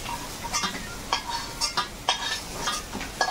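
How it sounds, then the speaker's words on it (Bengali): Potatoes fry in oil in a pan, a continuous soft sizzle under repeated spatula stirs and scrapes at a fairly steady pace, close and moderately quiet, with no voices. "আলুটা ভালো করে ভেজে নিয়েছি,"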